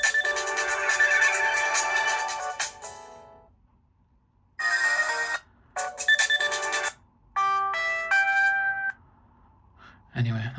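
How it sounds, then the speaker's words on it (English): Ringtones and alert sounds from an LG Pop GD510 phone play one after another: a long bright melodic tone, then several shorter chiming bursts and stepped beeping phrases with brief silences between, clear and fairly loud. "So these are just some LG sounds because I don't have any music saved to it"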